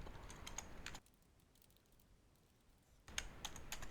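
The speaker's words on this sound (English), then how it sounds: "I'm going to type in there now, the title box." Computer keyboard typing in short bursts, clicking quickly for about a second, then a pause of near silence, then another quick flurry of keystrokes as a title is entered into a text box in Clipchamp.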